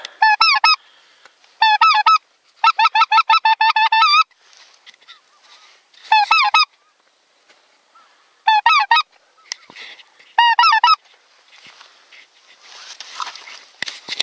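Several geese honk in repeated loud bursts of rapid calls, close by and clear, separated by quiet gaps in an open spring swamp during a goose hunt.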